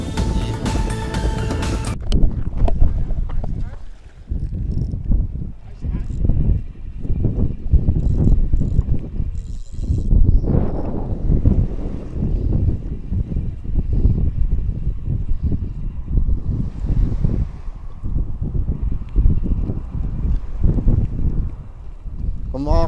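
Steady wind on the Al Khumra shoreline buffets the microphone in a continuous rough roar, with gusts rising and falling throughout and faint voices underneath.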